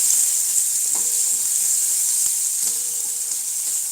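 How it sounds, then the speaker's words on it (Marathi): Onion and peanuts sautéing in a pan for sprouted moth bean fry, heard as a constant bright hiss of sizzling oil with a few faint utensil taps. "कांदा आता हे छान व्यवस्थित परतून घेऊ"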